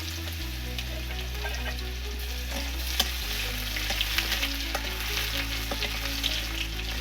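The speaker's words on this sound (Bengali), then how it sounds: "রসুনটা একটু লাল লাল ভাজা হবে," Garlic and black cumin seeds sizzle steadily in hot oil for a taro curry, a close, continuous fry with a few soft clicks of a utensil against the pan and no talking.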